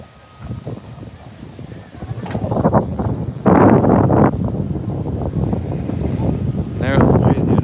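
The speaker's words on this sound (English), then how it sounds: "Very windy today." Strong gusty wind buffets the microphone near Venice Beach, a steady broadband roar swelling and dropping in loud gusts throughout, with someone talking over it at times.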